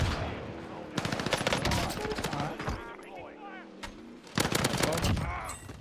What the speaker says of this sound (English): He's shooting me from the fucking tower, bro!